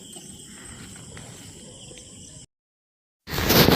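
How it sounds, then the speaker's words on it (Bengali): Crickets chirp outdoors at dusk in a thin, steady high trill over a low rumble for about two seconds, then a short gap of silence and an abrupt louder burst of noise. "ঝিঝি পোকার ডাক শোনা যাচ্ছে, কি ভাল লাগছে।"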